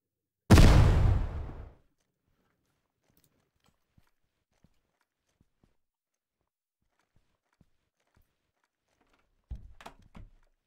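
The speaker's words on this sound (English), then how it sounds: "Frag out." A fragmentation grenade detonates in the tactical shooter game Ground Branch, one loud close blast that rolls off over a second or so, followed by near silence with faint ticks and a few scattered distant thuds.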